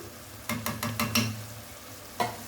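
Turmeric, coriander and chili powder stirred while frying for a beef kofta curry: five quick scraping strokes in a row against the pan, then one more after a pause, over a low steady sizzle.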